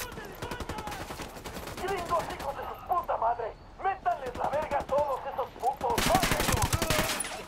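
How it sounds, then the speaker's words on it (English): Bursts of automatic gunfire in the tactical shooter Ghost Recon Wildlands, rapid rattling volleys that start and stop across the stretch, with a louder sustained barrage near the end and voices talking in between. "I'm opening fire on these shitheads"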